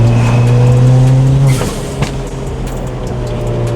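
A hybrid-turbo Ford Fiesta ST's engine drones loud and close with a strong steady tone, then drops off sharply as the revs fall away, leaving a lower rumble underneath.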